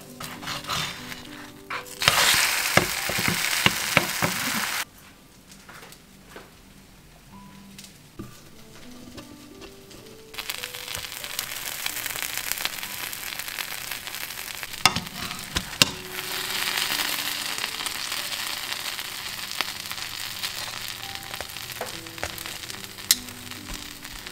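A second slice fries in fresh oil in a pan, giving a steady, fairly loud sizzle that drops briefly into a quieter spell before the crackle picks up again and carries on with light clatter.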